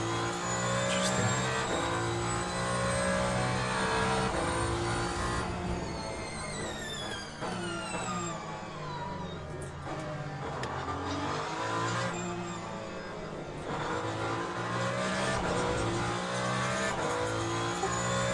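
Ferrari hypercar engine at Imola in the Le Mans Ultimate racing game, a loud continuous roar with rising and falling revs through gear changes, steady and close throughout.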